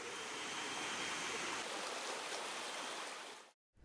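Fast-flowing river current rushing steadily as a dense, loud broadband wash, close and continuous, cutting off abruptly near the end.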